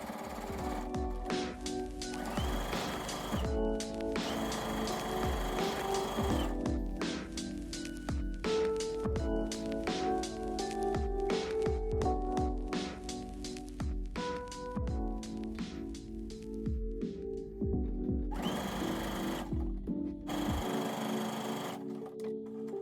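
A sewing machine stitches a tote bag seam in steady, continuous runs with brief pauses, its fast mechanical rattle loud and close throughout.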